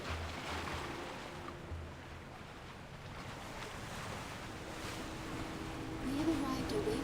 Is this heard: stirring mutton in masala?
no